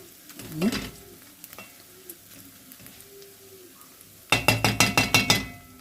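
Green beans frying in a pan with garlic to come, stirred with a utensil: a quick scrape near the start, a low steady sizzle, then a run of about eight rhythmic, loud scraping strokes close by near the end.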